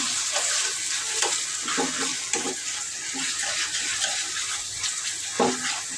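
Onion and tomato sautéing in a pan for a stinging catfish (shing fish) curry: a steady wet sizzle with scattered clinks and scrapes of stirring, close and even, with no voices.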